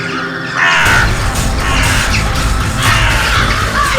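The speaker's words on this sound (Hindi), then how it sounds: "इतनी सारी कौवे।" A flock of crows caws loudly and continuously outdoors, overlapping harsh calls over a dense background roar in a horror show scene.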